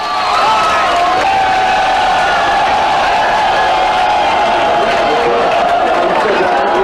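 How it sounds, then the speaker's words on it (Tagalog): Crowd cheering and applauding at a boxing match screening, a loud, dense roar of shouts and whoops that holds steady throughout with no break. "tila umaabot sa Dallas ang lakas ng palakpak at hiyawan"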